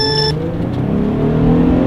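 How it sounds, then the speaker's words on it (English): A Jeep Wrangler JL with a 3.6 liter V6 and 8-speed automatic gives a loud, close, throaty exhaust rumble that rises as it revs, with a brief beep at the start. "It even has a pretty throaty exhaust note."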